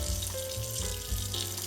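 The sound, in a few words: water running from a tap into a sink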